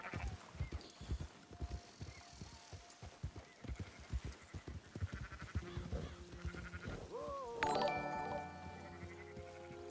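Sheep bleat in Red Dead Redemption 2 during a sheep-and-goat rustling mission, with a few wavering calls rising over steady horse hoof clip-clops, then a louder, drawn-out bleat near the end.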